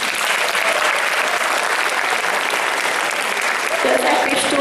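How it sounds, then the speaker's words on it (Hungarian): Audience applause at a Hungarian fan convention's Sunday awards ceremony, as a studio receives the audience prize; dense, steady clapping fills the whole stretch at close range and swells slightly near the end. "Tapsot kérnénk."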